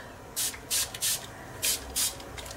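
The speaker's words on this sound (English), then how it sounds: "Spray a bit more." Five quick, close spritzes from a spray bottle misting glitter paint on a mixed-media artwork, each a short bright hiss, coming in a loose rhythm with brief pauses between.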